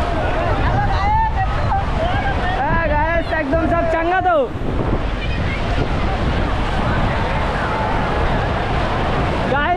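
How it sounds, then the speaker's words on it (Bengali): Sea waves at Digha beach roll and wash in a loud continuous surf roar, with wind buffeting the microphone, distant crowd babble, and a person talking over it in the first half. "ঢেউটা হচ্ছে দেখো জাস্ট।"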